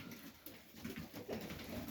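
Soft, steady cooing of highflyer pigeons at a late-afternoon feeding, low and continuous against a faint background hiss, with no talk.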